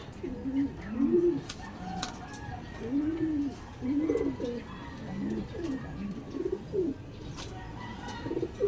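Pigeons at a pigeon race coo repeatedly in low, rolling phrases, fairly close, with occasional faint clicks and rustles in the background.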